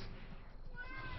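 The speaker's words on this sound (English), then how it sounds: "sorry for the cat sounds on the side here" A cat meows briefly in the background during an esports match broadcast, with commentary talk over it.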